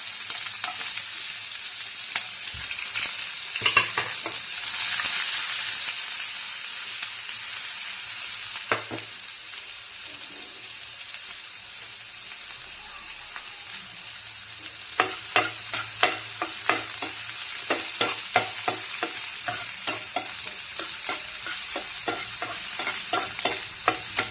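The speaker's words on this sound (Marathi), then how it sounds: "कढीपत्ता टाकलाय थोडासा आणि जो कांदा कापलेला टाकू. आता परतून घेऊया." Chopped onion and curry leaves sizzle hard in an oil-filled pan for a village-style peas curry, a loud continuous hiss with bursts of sharp spatula scrapes and taps in the later stretch.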